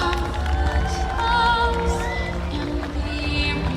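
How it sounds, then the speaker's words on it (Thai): A crowd at a student marching band contest claps and cheers together, a steady roar of applause with voices mixed in, while a tonal background sound carries underneath throughout. "ขอเสียงปรบมือให้กับเทศบาล5เด่น5อีกครั้งหนึ่งครับ"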